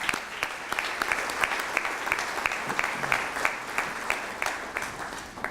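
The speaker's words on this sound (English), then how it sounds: "How about a round of applause for that?" Sustained applause from an audience at a school district awards breakfast, dense steady clapping filling the room for several seconds with no speech over it.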